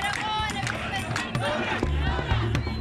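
A large crowd in Sudan sings a revolutionary chant, led by a woman standing on a car; many voices blend into a loud, sustained, tonal roar with shouts and babble mixed in.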